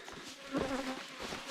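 Bees buzz close by during a honey harvest on Madeira Island, a droning hum that swells in the middle and then settles, with no talking.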